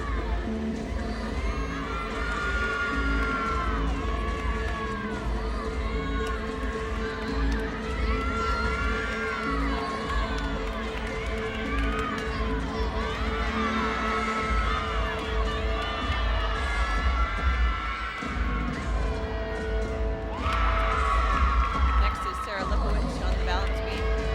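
Crowd at a college gymnastics meet, Kent State against Eastern Michigan, cheering during a floor routine: a steady, loud wash of shouting and whooping voices throughout, with a commentator talking over it.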